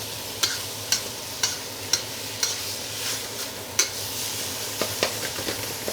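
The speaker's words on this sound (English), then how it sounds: "I'm gonna lift those aromatics off the wok into my cold pork." Pork and aromatics sizzle in a hot wok with a steady broadband crackle, punctuated by a regular series of sharp metallic scrapes and clanks from stirring, close and fairly loud.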